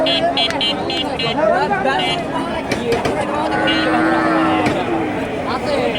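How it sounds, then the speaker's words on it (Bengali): Cattle, including native cows with calves at a busy rural livestock market in Bogura, moo several times amid crowd babble and voices, fairly close and loud. "প্রথমে একটা সুন্দর একটা গাবি দেখতে পাচ্ছি"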